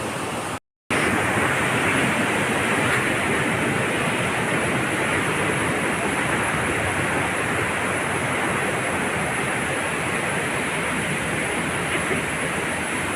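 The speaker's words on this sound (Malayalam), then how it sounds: "ഈ വെള്ളച്ചാട്ടത്തിൻ്റെ ദൃശ്യങ്ങളിലേക്ക് നമുക്കൊന്ന് പോകാം" Varappankettu waterfall near Peechi in Thrissur pours with a steady, full roar of rushing water, unbroken except for a split-second dropout near the start, with no talk.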